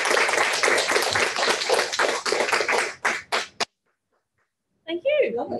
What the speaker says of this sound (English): I think we should have a nice round of applause for our fantastic panel.